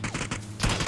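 Rapid bursts of video game gunfire, several quick shots in a cluster with a louder volley near the end, moderately loud against a busy game backdrop.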